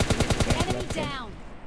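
Automatic gunfire in the mobile shooter PUBG Mobile Lite rings out as a rapid burst of about ten loud, close shots, then trails off into a ringing echo.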